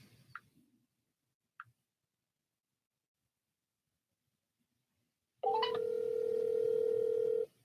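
A steady telephone dial tone over a speakerphone call, starting abruptly after near silence broken by a couple of faint clicks, then holding loud and unbroken for about two seconds.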